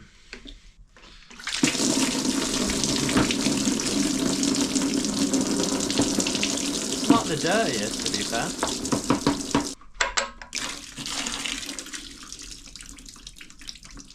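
Water gushes steadily from a VR5 engine block being flushed through after a pipe and water pump are removed, a loud continuous rush that cuts off abruptly, followed by someone talking briefly as a quieter trickle continues.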